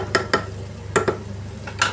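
A spoon scrapes and clinks against a pot while stirring mung bean stew (munggo), with about six sharp strokes in uneven pairs over a low background hum.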